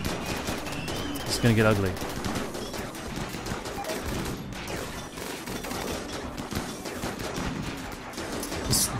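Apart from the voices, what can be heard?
autocannon firing in Rimworld video game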